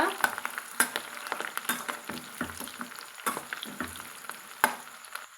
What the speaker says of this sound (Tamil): பச்சை மிளகா கொஞ்சம் வெந்து வரளவுக்கு எண்ணெயிலே வதக்கி விட்டுக்கலாங்க